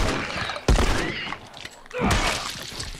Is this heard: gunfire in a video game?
yes